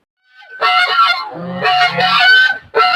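Domestic geese on a small winter farm honk loudly and close by in two bursts of overlapping calls, with a brief gap between, as they are being shut in for the night alongside ducks.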